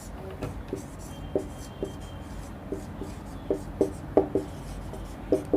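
Writing on a board during a trigonometry lesson, with soft intermittent taps and short scratchy strokes spaced irregularly, faint and close, over a low room hum.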